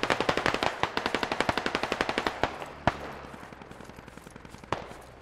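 Close automatic rifle fire from an AK in the video game Squad, a rapid string of loud shots that breaks into scattered single cracks with a lingering echo, and no talk.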